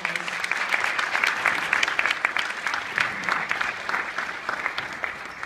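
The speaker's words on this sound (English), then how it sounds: "If we could just give Christopher a big round of applause." An audience applauds a $5,000 scholarship winner at a Jump$tart Maine conference, steady dense clapping filling the room for several seconds with no voices over it.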